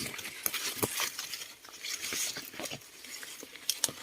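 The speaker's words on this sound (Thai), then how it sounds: "นี่ครับฝนตกนะครับ ฝนตกบ่อย" Rain falling on a field of 60-day-old 9979 C corn plants, a dense crackling patter with scattered sharper taps, fairly close and steady throughout, with no talk.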